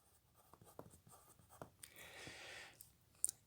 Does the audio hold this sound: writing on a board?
yes